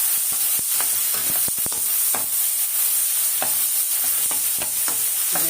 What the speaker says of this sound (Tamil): இப்போ இந்த அரைச்ச மசாலாவை இதிலே போட்டுட்டு வதக்கலாம்.